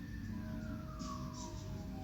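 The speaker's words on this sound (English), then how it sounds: "Confirmation with the sirens." A siren wails in the distance as one slowly falling tone, faint above a steady low rumble of background noise.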